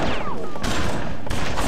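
Zombies fire guns during a church battle in the PC video game BloodRayne, a dense burst of rapid gunfire with loud, sharp shots filling the short moment.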